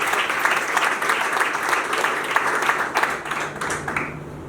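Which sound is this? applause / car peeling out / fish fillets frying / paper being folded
applause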